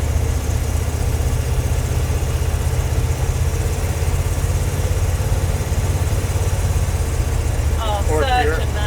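A Chevy C20 tool truck's engine drones steadily while driving and shifting gears, a constant low rumble heard from inside the cab as people talk over it.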